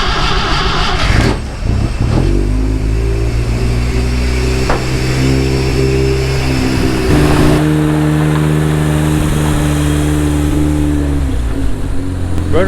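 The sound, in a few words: Willys Jeep engine starting and running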